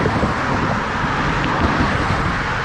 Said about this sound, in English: It's very loud here. Lots of cars going by.